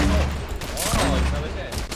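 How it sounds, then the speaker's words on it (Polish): Gunfire from a player shooting blindly during a Fortnite duo match: a rapid, dense volley of shots that stays loud and busy throughout, with some voice mixed in underneath. "Nie wiem, strzelam na oślep."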